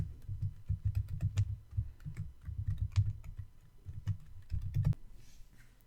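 Typing a folder name on a computer keyboard, with a steady run of soft, close key clicks that continues for about five seconds and then stops.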